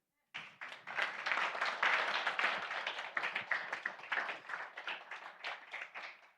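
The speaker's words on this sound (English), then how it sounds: "A round of applause for them," A room full of assembly attendees at an occupational safety and health gathering claps steadily for several seconds, a dense patter of hands that swells early and then tapers off, fairly quiet and heard on its own without talk.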